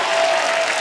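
Loud, dense studio audience applause fills a brief moment close up, a continuous roar of many hands clapping together.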